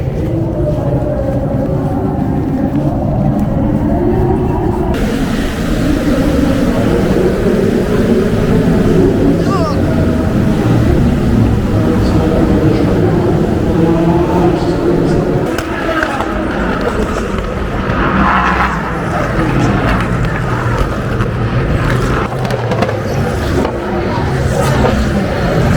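Race cars at a 24-hour endurance race, including a Porsche, roar past loudly and continuously with engine drones rising and falling, crowd and ambient noise beneath, close and dominating.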